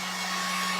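A Harbor Freight heat gun blows hot air in a continuous, loud, even whooshing drone with a steady motor hum underneath and no talking.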